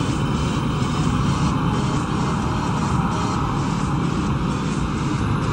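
A space plane engine in the game Kerbal Space Program gives a loud, steady roar with a constant droning tone. It runs unbroken and close for the full length, with no voices over it.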